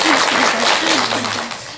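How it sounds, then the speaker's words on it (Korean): Applause from an audience at a Korean Buddhist performance talk event, a brief steady wash of clapping with a voice's tonal harmonics running underneath. "박수 한번 드리세요."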